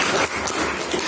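An audience at a school leadership seminar and inauguration for student organizations at SMP MIDA Gogodeso applauds, a steady, dense wash of clapping that fills the short moment at moderate loudness.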